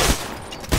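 Smart pistol MK5 from Titanfall firing a rapid self-aiming burst, with a bright shot at the start and another near the end framing a dense, continuous rattle of gunfire.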